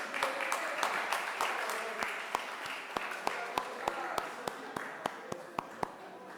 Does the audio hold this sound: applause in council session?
yes